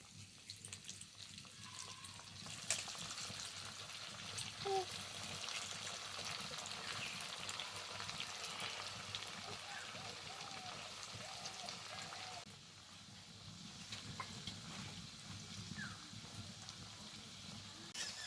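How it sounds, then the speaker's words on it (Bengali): Raw potato snacks deep frying in hot oil, giving a steady dense sizzle and crackle that runs continuously, dipping briefly partway through before building again, with no talk over it. "এবার বাকিগুলো ওই একইভাবে ভেজে নেব"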